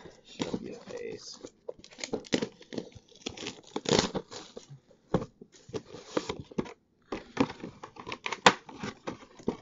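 A Yu-Gi-Oh booster card pack from a New Challengers Super Edition display box is crinkled and torn open up close, the foil wrapper crackling and ripping in short irregular bursts between pauses, with people talking and whispering throughout.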